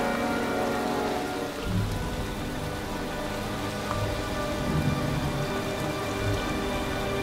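Steady, heavy rain falls throughout in the video game Heavy Rain, a continuous wash of drops with no voices.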